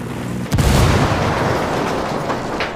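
A frag grenade goes off in Ghost Recon Wildlands with one sudden loud boom that holds a deep rumble which fades slowly across the rest of the moment. No talk can be heard.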